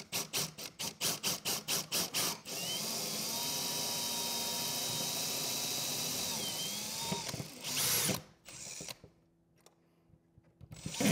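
A power drill revs in several short pulses, then runs in one long steady whir before stopping, followed by brief clattering, while drilling holes for an Andersen 300 Series storm door installation.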